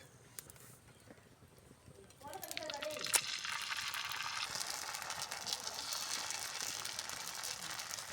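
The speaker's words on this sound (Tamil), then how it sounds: "இப்போ வாங்க தோசை ஊற்றிக்கலாம்" Dosa batter poured onto a hot pan, a quiet moment before a sudden sizzle that spreads into a steady, loud frying hiss, close up and lasting to the end.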